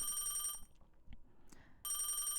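A telephone in the game Dreambound rings in two loud electronic bursts separated by a quieter gap, close and clear, with no voices over it.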